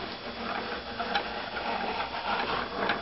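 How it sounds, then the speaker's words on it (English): An Accuquilt GO fabric cutter processing quilt fabric, giving a steady mechanical rumble with faint ticking clicks throughout, moderately loud and without speech. "send this through the Accuquilt GO cutter"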